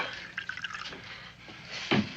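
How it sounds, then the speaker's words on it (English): Ale poured into a mug in a frontier tavern, a short liquid splash and trickle with a brief louder gush near the end, close and moderately quiet. "Pour me a mug of ale, will you?"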